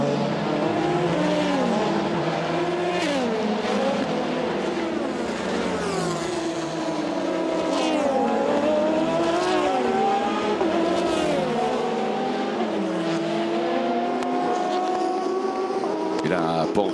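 Porsche race cars at the 24 Hours of Le Mans 2020 roar past in a continuous loud stream of rising and falling engine notes, with a race commentator talking over the action throughout.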